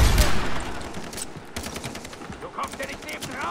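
Rapid gunshots crack in a Far Cry 3 co-op firefight, a dense run of close, loud reports with short gaps between them, filling the whole moment.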